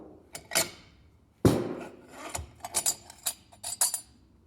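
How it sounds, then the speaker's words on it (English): A pinion being tapped loose from a Dana 44 axle during a re-gear, a series of sharp metallic taps and knocks, close and fairly loud, irregularly spaced with one heavier strike. "you're tapping, you're not beating the hell out of it"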